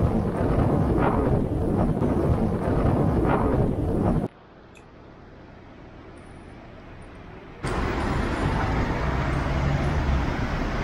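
Strong headwind buffeting the microphone while riding a recumbent trike on a flat route, loud continuous rumble that drops to a quiet lull for a few seconds before the roar returns.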